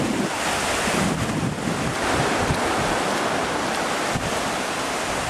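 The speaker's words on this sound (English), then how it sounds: "Look at that beach right there. See, the tide's coming up a little bit." Ocean surf rolls in steadily on Kahana beach, Oahu, Hawaii, a dense continuous wash of waves mixed with gusty wind buffeting the microphone, with no voices.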